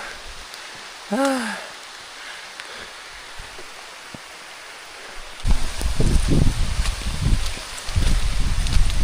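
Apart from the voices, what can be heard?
rain falling on leaves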